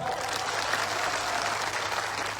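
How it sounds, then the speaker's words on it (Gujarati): A crowd at a public rally in Gujarat applauds police officers, producing dense, sustained clapping that holds at an even loudness from start to finish. "અહીંયા જેટલા પણ પોલીસ અધિકારીઓ છે એમના માટે એકવાર જોરદાર તાળીઓ પણ લો"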